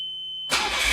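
A Nissan Figaro fitted with a new engine mount cranks and fires into life, with silence for half a second before a sudden loud burst of starter and engine noise that carries steadily to the end.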